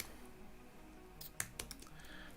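Fast, clumsy typing on a computer keyboard, a short cluster of sharp clicks and key taps bunched near the middle of the clip over a quiet room hum, fairly close and moderately soft.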